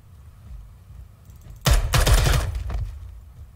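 Automatic gunfire in the tactical shooter Ground Branch, shot through a wall: after a quiet moment, a loud, close burst of rapid shots hammers for about a second, then trails off into a last few scattered rounds.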